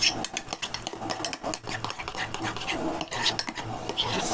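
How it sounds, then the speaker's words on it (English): A spoon stirs microwavable biscuit batter in a mug with quick, continuous scraping and clinking against the sides, a busy close rhythm of small knocks and taps lasting throughout. "go ahead and stir that up, mix that up"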